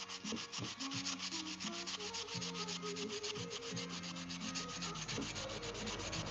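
Steady, continuous scratching of sandpaper rubbed back and forth over a wooden cutting board, close and even in level throughout, with faint tonal hum in the background.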